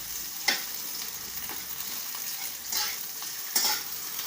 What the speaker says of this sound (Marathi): लाल होईपर्यंत असं परतून द्यायचा चांगला